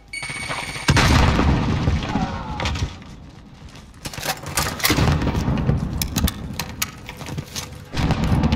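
A grenade blast in Call of Duty Warzone gameplay lands as a loud, sudden boom, followed by more booms and scattered gunfire over the next several seconds, with faint game voices in between.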